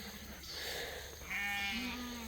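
Lambs bleating on a grassy farm pasture: one or two short, wavering bleats, fairly close, over a faint outdoor background.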